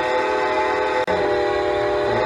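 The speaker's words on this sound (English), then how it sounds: "so that you've got that great sounding whistle" A Lionel Legacy T1 model steam locomotive whistle, built from recordings of an original 2100 engine, blows a loud sustained chord, breaks off for an instant and then sounds again, with no voices.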